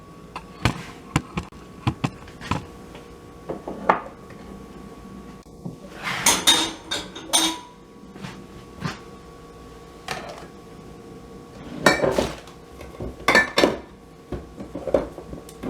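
Glop and rice dished into a bowl, scattered clinks and scrapes of a utensil against the pot and bowl, irregular knocks at close range with quiet gaps between.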